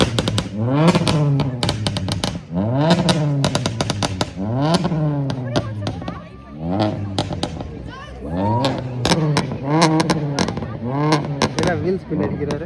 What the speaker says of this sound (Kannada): Wheel spin ಅಡಿಗಿದ್ದಾರೆ.